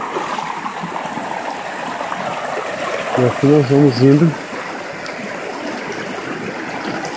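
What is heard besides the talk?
river stream flowing while walking in the river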